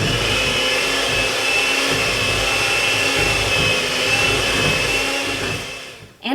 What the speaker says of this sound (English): I have an egg beater, so it worked a little bit faster than like a KitchenAid mixer